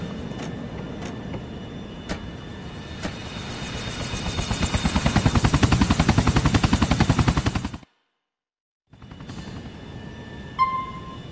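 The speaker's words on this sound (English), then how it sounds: "My men have the chopper." A helicopter in Grand Theft Auto IV beats with a rhythmic rotor chop that swells louder over several seconds, cuts to a brief silence, then returns more faintly with a few sharp electronic blips.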